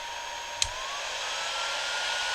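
A steady, loud rush of air from a Bauer heat gun on its high setting with a faint whine, broken only by one brief click.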